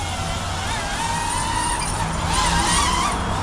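A DJI Avata 2 FPV drone whirs loudly and steadily overhead, its motor pitch rising and wavering as it flips in flight, with outdoor ambience around it.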